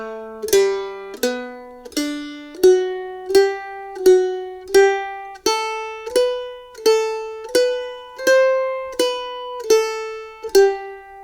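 Mandolin picks the opening phrase of Twinkle Twinkle Little Star, single bright plucked notes ringing out one at a time at a slow, even pace, clear and close with no voice.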